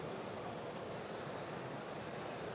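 Continuous rushing water flow in a well flow loop, picked up by an improved fiber-optic acoustic sensing system, a steady broadband wash with soft low rumble, even and unbroken for the whole stretch.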